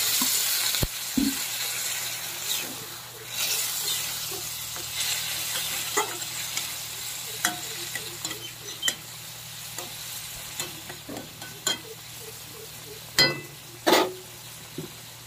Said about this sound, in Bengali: ভুনানো হয়ে গেছে, একটু জল দিয়ে নিলাম।